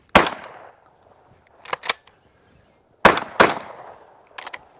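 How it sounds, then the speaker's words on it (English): A Fabarm XLR5 Waterfowler semi-automatic shotgun firing outdoors, loud sharp reports heard up close in two clusters, each with a double shot, trailing echoes and fainter follow-up bangs. "I feel like the more we shoot this gun, the more it's loosening up."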